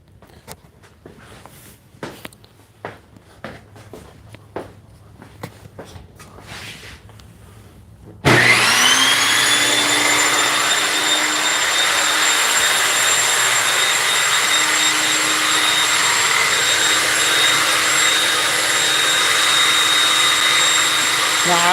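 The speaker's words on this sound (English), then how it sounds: "We are going to go ahead and turn the saw on and see what amperage it pulls." A saw powered on for an amperage test with a Fluke meter, starting abruptly after quiet handling noises and then running as a loud, steady, high-pitched motor whine and hum that holds unbroken to the end.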